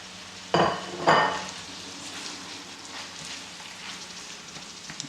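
Garlic, onions and mushroom hit a hot pan without oil and crackle in two sharp bursts, then settle into a soft, steady sizzle with faint stirring.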